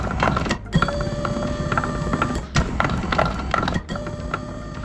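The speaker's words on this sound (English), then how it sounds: "the gears are really noisy" 3D-printed gears in a motorized standing desk grind and whir loudly and continuously, a close mechanical drone broken by a few brief pauses, with no voices.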